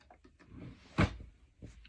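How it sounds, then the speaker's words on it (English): A small drawer slides open with a single short, close clatter, set apart from quiet surrounding room noise and faint movement. "Let me get in my little drawer here and grab me a little pair of scissors."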